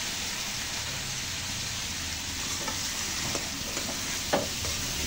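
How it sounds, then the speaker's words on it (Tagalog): Marinated chicken for chicken adobo sizzles and fries in a pan, a steady close hiss with a few soft stirring clicks and pops and no talk. "Lagyan na natin yung ating marinated chicken."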